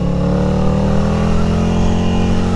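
Ducati Scrambler motorcycle, freshly serviced, riding along a coastal road: a loud, steady engine drone with strong low harmonics, held continuously and fairly close with no speech.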